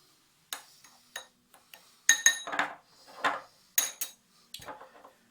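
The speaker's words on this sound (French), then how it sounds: "Tout d'abord, on mélange la pectine avec le sucre." Pectin and sugar are stirred together in a bowl, with a spoon clinking and scraping against it in a series of sharp, light taps and rattles, close and quiet.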